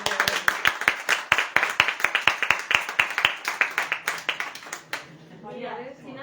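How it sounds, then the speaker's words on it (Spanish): Audience at a women's day roundtable event applauds with crisp, closely spaced claps in a brisk rhythm. The clapping fades out near the end, leaving a softer background with voices. "vamos a darle un aplauso a..."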